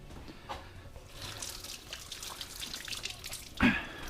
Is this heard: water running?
yes